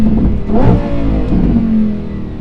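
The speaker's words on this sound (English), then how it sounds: "Gear shifts are fast as always." A Lamborghini Huracan STO engine revs loud and close from the cabin, its note rising and falling with rapid gear shifts under steady road roar.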